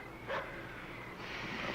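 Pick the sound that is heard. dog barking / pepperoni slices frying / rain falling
dog barking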